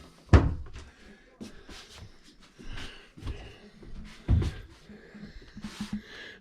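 Tall cabinet inside a Cavco park model being opened and shut, with two sharp wooden knocks and slams plus softer rattles and shuffles between them.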